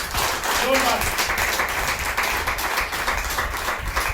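An audience at a Hindi motivational training session claps loudly for the principal, a dense, continuous wash of clapping lasting about four seconds, with a voice briefly audible early on.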